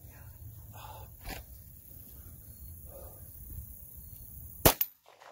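A single sharp gunshot cracks at an outdoor shooting range, loud and close, standing out from low background rumble and quiet shuffling, then a brief echoing tail fades into near silence.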